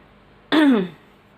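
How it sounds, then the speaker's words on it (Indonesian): A single short, harsh throat clearing, close and loud, lasting about half a second, with quiet surroundings before and after. "Saya kok jadi batuk ya"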